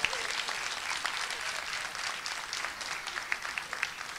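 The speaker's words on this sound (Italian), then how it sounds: "un applauso al nostro Michele" An audience at a school charity event applauds in a steady patter of many clapping hands, sustained and fairly soft throughout.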